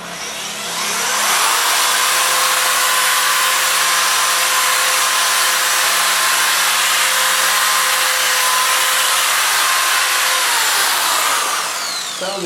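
A sanding disc on a power tool works a car headlight lens, a loud, steady high-pitched whir that spins up over the first second, holds evenly for about ten seconds, then winds down, with no voices.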